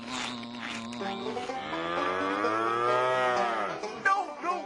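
A cow gives a long, drawn-out moo that rises and then falls, loud and close, followed by a brief rustle at the end.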